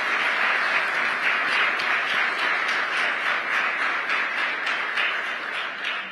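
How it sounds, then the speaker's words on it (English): Sustained applause from an audience honoring the Treasury Secretary at a formal event, a dense steady wash of many hands clapping without pause, loud and close, fading slightly toward the end. "Can I get a round of applause for our Treasury Secretary?"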